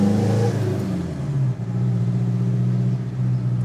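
A Citroën C4 with a 1.6 HDI diesel engine and fixed turbo accelerates hard during a timed run, its loud engine note climbing through gears with a short dip partway, close and continuous.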